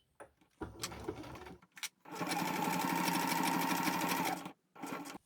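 A domestic sewing machine stitches a back-tack on fabric for a sandwich pouch: short forward and reverse bursts, then a long steady run of rapid stitching, close and loud, with brief pauses between runs.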